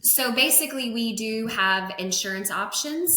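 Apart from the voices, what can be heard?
None of the usual background noises is heard.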